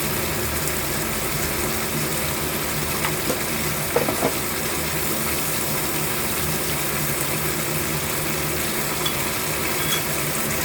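Spatula stirring grouper pieces and wet batter together in a frying pan, a steady scraping and bubbling sizzle that runs continuously throughout, with a few brief louder clinks near the middle.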